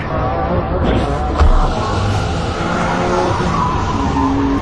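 A race car in a film swings through a fast final turn at racing speed, its engine and skidding tires forming a dense, continuous roar with a sharper squeal burst midway.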